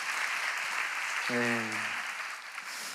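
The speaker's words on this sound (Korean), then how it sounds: "격려의 박수 한번 보내주시면 감사하겠습니다" A church congregation at a Sunday youth service applauds young people back from a mission trip to Nepal, a steady wash of many hands clapping, with a single short spoken word cutting in partway through.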